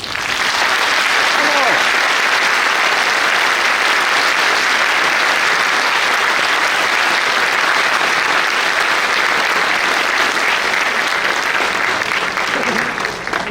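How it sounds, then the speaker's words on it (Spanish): A hall audience at the Miguel León-Portilla lecture at Universidad Autónoma Chapingo applauds Dr. Miguel León-Portilla in a long, loud, steady ovation lasting over thirteen seconds, with faint voices mixed into the clapping. "Demos nuevamente un aplauso al doctor Miguel León Portilla."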